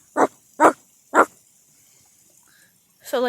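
A person's voice imitates a big dog or wolf with three short, gruff bark-like bursts evenly spaced, followed by a brief higher whine and then a rough, scratchy growling onset, close and fairly loud.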